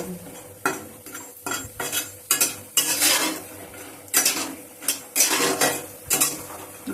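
Homemade lentil bori fry in hot oil while a spoon scrapes and stirs them around a pan, giving repeated clattering strokes over a steady sizzle, close and fairly loud.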